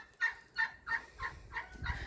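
Domestic geese and turkeys grazing together on a farm give six evenly spaced honking calls, close and moderately loud, over a quiet background.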